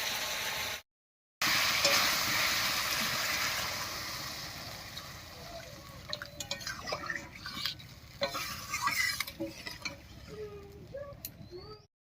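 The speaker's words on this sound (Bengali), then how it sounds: "এবারে ঝোলের জন্য জল দেবো।" Water poured into a pan of frying cauliflower, potato and spices for an egg curry, village style: a loud rushing hiss at first that settles into softer bubbling and scattered clinks of stirring.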